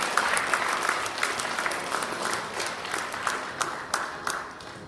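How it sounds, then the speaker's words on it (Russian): An audience at an awards ceremony for prize winners in Arkhangelsk claps steadily and energetically, a dense, fairly close wash of applause with a few sharper individual claps standing out. "давайте еще раз под бурные аплодисменты поблагодарим всех наших участников"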